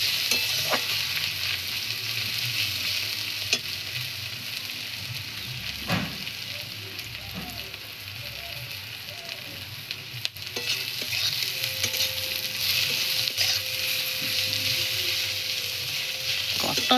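Onions browned with green chillies fry in a pan over a wood fire, giving a steady close sizzle with occasional scrapes and clinks of stirring, plus a faint tonal whine in the background partway through.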